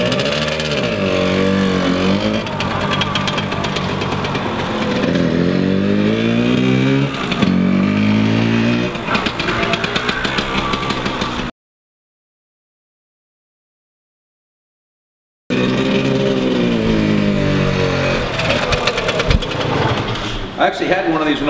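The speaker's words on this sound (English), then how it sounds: "Let me fire it up and I'll tell you all about it." A 1976 Suzuki TS100 two-stroke motorcycle engine running and being revved, with rising and falling buzzy pitch sweeps, close and loud, broken by a few seconds of silence partway through.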